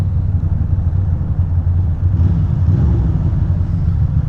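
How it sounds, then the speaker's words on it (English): Motorcycle engine rumbling steadily nearby on a Queens-to-Brooklyn group ride, a low, continuous drone that briefly shifts in tone as the bike stalls out, with no talk over it. "Why did my bike just stall out?"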